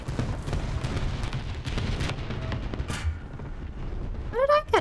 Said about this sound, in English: I'm going to drop the bomb.